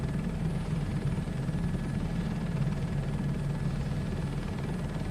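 A helicopter flies in Microsoft Flight Simulator 2024, its rotor and engine making a steady, low, throbbing drone that stays constant and close throughout, with no voices.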